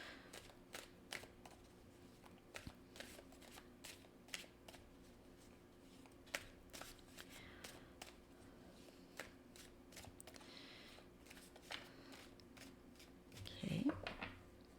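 Oracle cards from a Mystic Moon deck are shuffled and drawn, giving a steady run of soft, quick card clicks and riffles that stay faint and close throughout.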